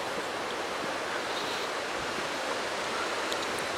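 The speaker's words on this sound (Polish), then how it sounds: "Dzisiaj wiatr południowy" A strong south wind of about 35 km/h roars steadily across the microphone at a beach, a dense, unbroken rush mixed with distant surf, with no voices.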